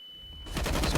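Rapid automatic AUG rifle fire in a CS:GO match on Mirage begins abruptly halfway through, a loud, dense burst of closely spaced shots continuing to the end.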